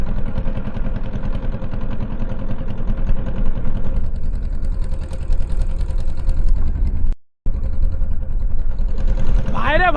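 Engine of a river crossing boat on choppy water, a steady loud low chugging drone throughout, briefly cutting out near the end.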